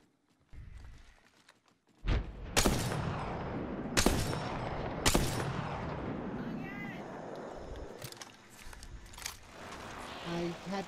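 A frag grenade blast and gunfire in the Apex Legends video game: a low thump, then several sharp, loud shots in quick succession with clattering debris, followed by scattered lighter shots and game sounds while a voice talks.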